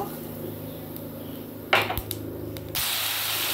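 Tomato and ginger paste drops into hot oil already tempered with black cumin seeds, setting off a sudden burst of clattering that settles into a loud, continuous sizzle and hiss.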